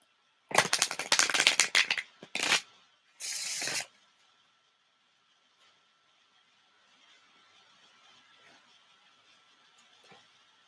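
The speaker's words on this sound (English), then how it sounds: "Last shuffle." A deck of tarot cards is shuffled in a few quick, crisp riffling bursts close by, followed by near silence with faint handling sounds.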